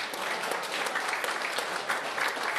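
Wedding guests clap for the godmother in a dense, even round of applause, moderately loud and continuous, with no voices rising above it.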